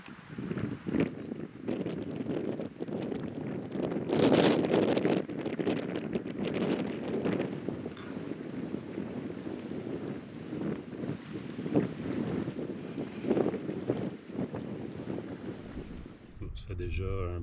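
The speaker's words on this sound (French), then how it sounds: "Et j'ai le vent dans le dos." Steady wind rushing over the microphone during a solo canoe paddle on a lake in a wildlife reserve, a continuous loud buffeting roar with gusts, paddle and water sounds blended in.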